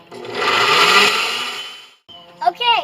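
A blender whirs loudly blending blueberries and yogurt for about two seconds, then winds down and stops, followed by a brief voice right after.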